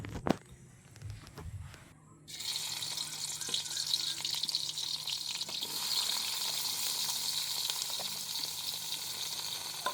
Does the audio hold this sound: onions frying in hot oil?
yes